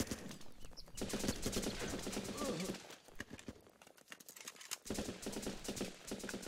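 Rapid gunfire from the video game Running with Rifles comes in two quick rattling bursts, a few seconds apart, with a voice talking around them.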